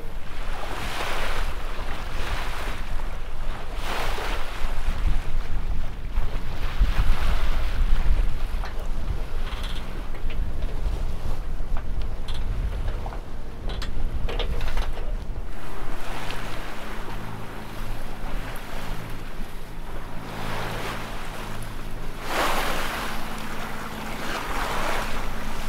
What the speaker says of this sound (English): as you can hear, the motor is still on.